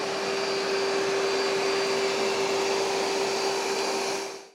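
ECOVACS DEEBOT T30S robot vacuum running on max suction over carpet, a loud, steady whirring roar with a constant high whine that cuts off abruptly at the end.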